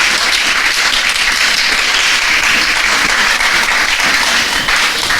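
Audience applause for a courageous woman at a church-style gathering, a steady, dense wash of many hands clapping, loud and sustained throughout without a break.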